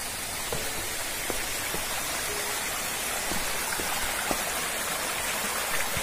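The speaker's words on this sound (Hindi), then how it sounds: "पास में ही एक झरना है, आप झरना को देख के जा सकते हैं।" Continuous rushing water of a forest waterfall and stream near a temple trail in the Dooars of North Bengal, a steady broadband roar with scattered splashes, close and unbroken, no voices.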